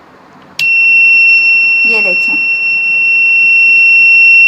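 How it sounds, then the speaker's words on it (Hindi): A PIR motion-sensor security alarm buzzer, built as a physics project, switches on abruptly and holds a steady, piercing high-pitched tone throughout, while a person briefly speaks over it. "अगर कोई बाहर से अंदर आता है तब ये बज़र ऑन हो जाएगी"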